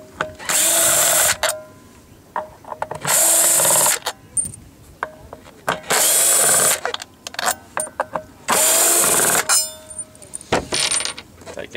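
Power drill backing bolts out of a boat seat, four loud whirring bursts separated by pauses filled with clicks and handling noises, close up and without talk.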